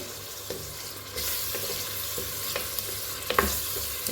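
Shrimp fry in a pan with a hiss that swells after about a second, while a spoon stirring and scraping against the metal gives scattered soft knocks throughout.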